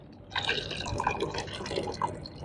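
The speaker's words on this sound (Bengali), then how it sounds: "এখন দুধগুলো আমরা ঢেলে দিচ্ছি" Milk being poured into a container for Pakistani mohabbat sharbat, a steady liquid pour with light dripping and splashing, fairly close and continuous, with no talking.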